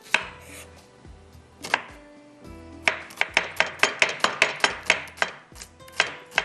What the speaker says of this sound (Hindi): प्याज को चॉप करके डालेंगे तवे के ऊपर